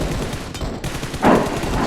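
Automatic rifle fire in the mobile battle royale game PUBG Mobile comes as a short, dense burst of rapid shots over a noisy background, with one louder crack near the end.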